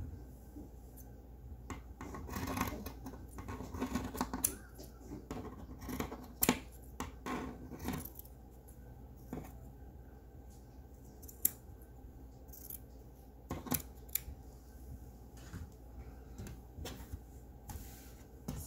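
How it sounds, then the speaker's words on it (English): Scissors snipping through the purple fabric of a Crown Royal bag, with repeated close, crisp cutting and rustling strokes in irregular bursts against a quiet background. "you can see a little bit better where you're cutting when you cut the bottom piece off"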